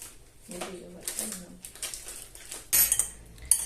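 A salad being tossed in a bowl with utensils, with soft clinks and scraping metal on dish under quiet speech, and pigeons cooing faintly in the background.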